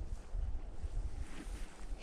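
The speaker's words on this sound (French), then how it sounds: "au col, il y a du vent." Wind gusting across a mountain pass in autumn in the Baronnies provençales, a steady rough buffeting rush with low rumbling microphone noise, loud and close throughout with no voices.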